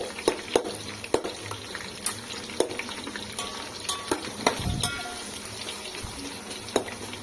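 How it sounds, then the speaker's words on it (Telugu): Onions fry toward golden brown for chicken dum biryani, a faint continuous sizzle broken by soft, irregular scrapes and taps of a spoon stirring the pan. "ఆనియన్ మనకి గోల్డెన్ బ్రౌన్ కలర్ వచ్చే వరకు మంచిగా ఫ్రై కానివ్వాలి."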